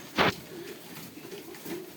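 Soft cooing of breeding pigeons, low and murmuring, close by and quiet, with a brief rustle or flap at the start.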